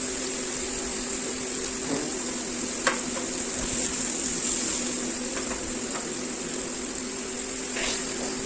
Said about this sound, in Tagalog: Put a small amount of vegetable oil into the pan with a low heat and then fry our breast chicken.